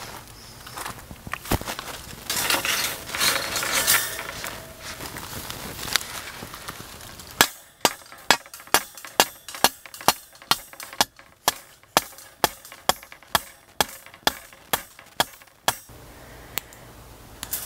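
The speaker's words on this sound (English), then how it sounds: "we've gone ahead and driven the rebar in at four places throughout the trellis" Steady metal-on-metal hammer strikes drive rebar into the ground for a grapevine trellis, ringing out one after another at an even pace, loud and close, after a stretch of rustling and scraping noise.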